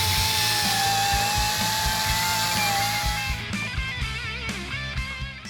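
A power tool cuts into the steel cab of a Ford Ranger prerunner, giving a steady loud whining buzz with a rhythmic low pulsing underneath that becomes choppier and stuttering toward the end, with no talk.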